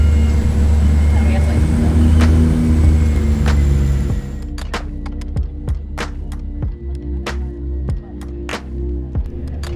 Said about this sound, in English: The aircraft leaves one engine running as the passengers disembark